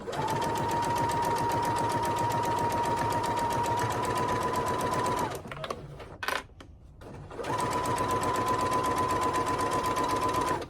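A sewing machine stitches a pillowcase with a fast, steady mechanical whir. It pauses briefly for a back stitch with some handling clicks, then resumes at full speed.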